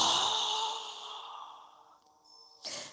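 A single strong exhaled breath in a yoga breathing exercise, loud and close at first and fading over about two seconds, followed by a brief sharp breath near the end.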